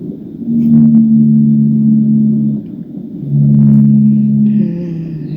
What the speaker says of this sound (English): What you're hearing is a blue whale singing.